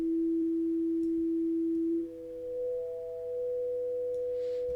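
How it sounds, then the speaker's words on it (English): A pure synthesized sine wave tone built in FL Studio, holding steady and loud, then dropping to a quieter, slightly higher pair of tones that continue alone. "So I'm creating a sine wave out of a bunch of, like a saw wave."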